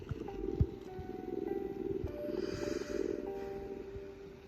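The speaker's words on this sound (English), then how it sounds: "Melodies with cat purring." A simple electronic melody of sustained tones from a VTech Sleepy Kitten toy plays over a soft, rhythmic cat-purring rumble, gentle and close.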